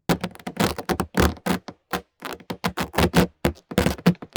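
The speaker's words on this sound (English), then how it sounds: "The balloon rub sounds like this." A balloon rubbed by hand for creature sound design Foley, a close series of squeaky, scratchy rubbing strokes in an irregular rhythm, with no talking.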